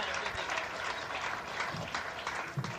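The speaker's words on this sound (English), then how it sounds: "Big round of applause" Audience at a comedy show breaks into sustained applause, a dense wash of clapping that holds steady for the full stretch, with a few scattered voices mixed in.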